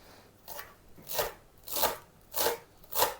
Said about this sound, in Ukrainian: Нарізаємо зелень. У нас зелена цибулька і петрушечка свіжа